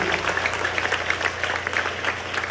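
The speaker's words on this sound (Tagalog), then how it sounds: "Sa malakas na palakpak para sa ating mga Jesus." Church congregation applauding loudly at a 10th anniversary Sunday service in Lobo, Batangas; dense, steady clapping from many hands fills the room without pause.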